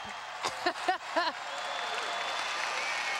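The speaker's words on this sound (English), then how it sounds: "clap." A crowd applauds at a 2003 UConn women's basketball game against Western Michigan. A brief voice comes first, then a steady wash of clapping sustains to the end.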